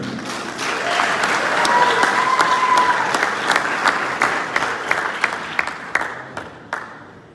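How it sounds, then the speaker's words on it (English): A large crowd at a Late Model stock car race clap and cheer loudly and steadily, the applause swelling then gradually thinning with scattered sharp claps toward the end. "Make some noise for the number 55X of Michael Lofgren."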